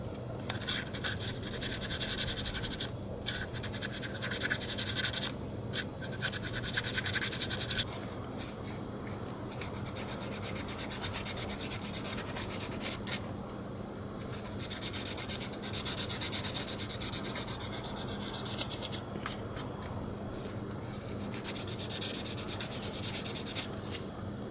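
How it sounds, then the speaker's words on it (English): Steady close scraping of 2000-grit sandpaper cleaning up the gasket mating area on a scooter during a starter clutch change, continuous back-and-forth rubbing with brief pauses, loud and alone without talk. "I'm going to use some 2000 sandpaper to carefully clean up some of this."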